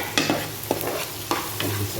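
Onion and tomato sauté in a pan with a close, steady sizzle, punctuated by a few sharp scrapes and clacks of a spatula stirring, no speech.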